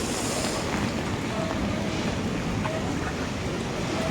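Strong waves churn during Typhoon Kristine in the Philippines, forming a constant roaring wash of water and wind that buffets the microphone, steady and moderately loud without pause.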